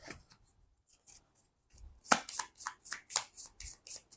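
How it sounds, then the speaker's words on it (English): Crisp, riffling sounds of tarot cards in quick bursts, a few soft taps first, then a run of rapid fluttering shuffles, close by with no talking. "One more shuffle, and we are good to go."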